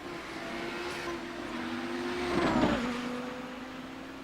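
A 700HP Audi 90 GTO race car circling the concrete bowl of the Nürburgring Karussell, its engine droning steadily as it holds a sustained note, swelling and rumbling briefly midway before settling back.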